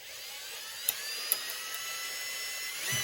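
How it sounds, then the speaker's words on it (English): A small drill bit bores through a broken plastic oil dipstick, giving a steady high-pitched whine that runs throughout, broken by a couple of brief sharp ticks and rising slightly at the end. "I took a small drill bit and I just started drilling this."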